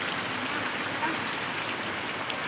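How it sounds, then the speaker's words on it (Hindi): Steady rain falls in a lockdown-era labourers' setting where brick-making has stopped, a continuous even hiss of water with no breaks, close and moderately loud throughout. "यहाँ बारिश हो रहा है तो कहाँ से ईंट बनाए?"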